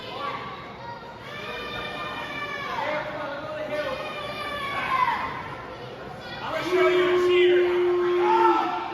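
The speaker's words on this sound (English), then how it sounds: "crowd making their voices heard here on this evening." Wrestling crowd at a 30-minute Iron Man match between Logan Knight and Cappuccino Jones, a dense wash of cheering, chanting and shouting voices swelling louder near the end, with a steady tone sounding briefly.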